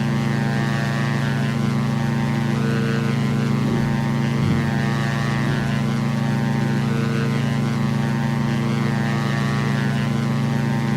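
A twin-engine Diamond DA62 in X-Plane 11 holds a loud, steady propeller drone at takeoff. Strong engine hum and harmonic tones run unbroken with faint thumps as the aircraft rotates, and there is no talk.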